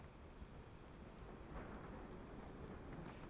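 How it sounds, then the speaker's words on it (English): Steady rain falls in a multiplayer Civil War battle game, a dense continuous hiss filling the background at a low level with no distinct drops or thunder standing out. "Why is it raining and there's a cloud?"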